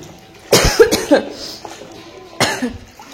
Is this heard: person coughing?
yes